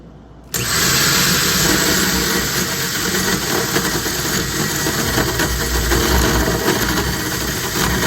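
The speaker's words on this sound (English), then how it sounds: "Drilling holes in boats," A power drill drilling holes in a boat hull runs loud and steady for several seconds, starting abruptly after a brief quiet moment, with a harsh whirring grind throughout.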